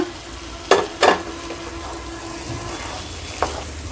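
Marinated squid is stirred into masala in a pan: two sharp spoon knocks early on and another later, over a low, continuous sizzle and wet stirring close by.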